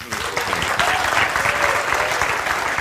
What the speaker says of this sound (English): First of all, applause,